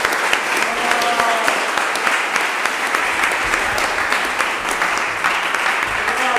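A church congregation gives a long, steady round of applause, many hands clapping together at an even, loud level throughout with no break.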